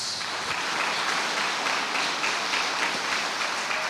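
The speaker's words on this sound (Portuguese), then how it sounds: "Vamos aplaudir Jesus." A church congregation applauds during a Sunday service, with dense, continuous clapping filling the room at an even, loud level and no voices standing out.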